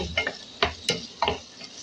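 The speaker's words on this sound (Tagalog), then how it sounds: "Tomato, ginger, lemongrass, and onion. Lagay na rin natin paminta. Then saute." Tomato, ginger, lemongrass and onion with pepper sautéing in a pan for chicken tom yum, with a few distinct close scrapes of stirring over a soft sizzle and no talking.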